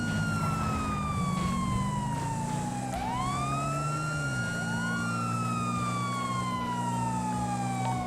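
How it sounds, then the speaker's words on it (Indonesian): A police siren wails in a GTA V roleplay game, loud and continuous, sweeping its pitch up and down over a low engine rumble with no talking. "Sirine."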